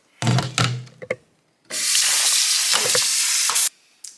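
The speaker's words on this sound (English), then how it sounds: "I'm gonna give the rice a nice rinse" Rice being rinsed in water for a home meal prep: short splashy swishes, then a long steady rush of running, sloshing water close up, with no talking.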